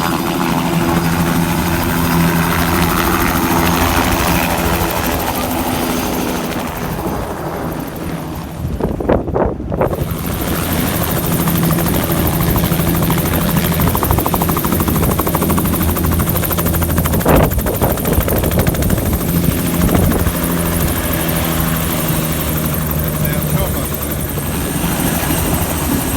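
A helicopter flies near Mitchell Falls in the Kimberley, its rotor thudding loudly and continuously close by, with wind buffeting the microphone and a brief dip as it passes.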